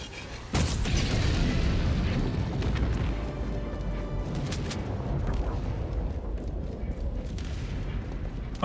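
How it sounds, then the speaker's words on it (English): Orbital strike in Helldivers 2 slamming down with a sudden loud blast, then a sustained roaring rumble of explosions and debris with scattered cracks, close and heavy throughout. "Requesting orbital strike."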